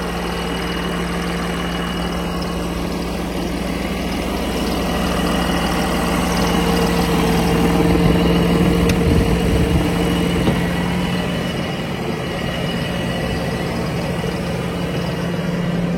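A Fendt tractor engine drones steadily from inside the cab in a vineyard, a loud low rumble with a constant hum, swelling slightly midway before settling back.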